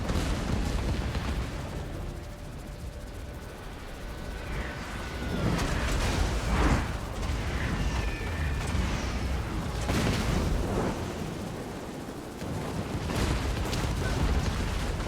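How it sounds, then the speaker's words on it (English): Queen Bess rocket batteries fire barrages in Total War: Warhammer II during a siege, loud rumbling booms and whooshing launches with whistling streaks overhead, layered over continuous battle noise. "Man, the Queen Bess missile fire is so cool"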